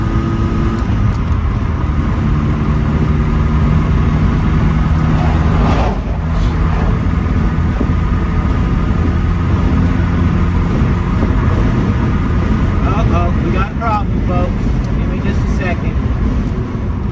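Pickup truck cruising on a road at a steady 55 mph, heard from inside the cab: a loud, continuous low engine drone and road rumble holding steady throughout, with a brief shift around the middle and a voice speaking over it.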